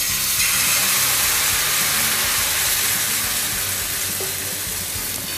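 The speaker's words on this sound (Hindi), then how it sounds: "तवे के ऊपर अपना बैटर डालेंगे।" Wheat-flour batter for sweet pude hits a hot tawa over a medium gas flame, producing a loud, continuous broadband sizzle with low rumbling underneath that holds steady throughout and goes on without any voices.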